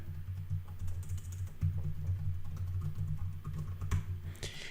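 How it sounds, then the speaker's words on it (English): Fingers type a username on a computer keyboard, giving faint, quick key clicks over a steady low hum, with no talk. "you type your username"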